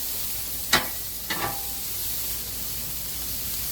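Steak and meat sizzle steadily on a hot hibachi griddle, a constant hiss broken by two sharp metallic scrapes of a spatula near the start.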